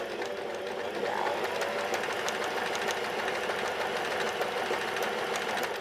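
Domestic sewing machine stitching a buttonhole, a fast even mechanical whir and needle clatter running steadily throughout, close and fairly loud with no talking.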